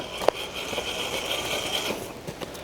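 Axial Motobilt Gladiator RC crawler with a 1040 brushed motor creeping at very low speed, a faint high whine that holds steady then fades, with a sharp click near the start and quiet background.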